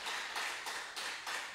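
Congregation applauding in a church service, a dense, steady wash of many hands clapping at close range in continuous bursts, with no voices over it.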